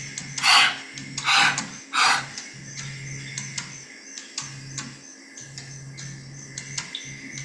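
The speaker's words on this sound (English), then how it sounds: "Inhale, and when you exhale, try to go down an inch." Slow, deep breaths during a guided relaxation session, three strong breathy swells close to the mic, then quieter softer breathing over a low steady hum.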